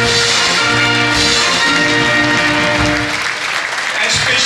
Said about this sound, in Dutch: Dan mag u klappen.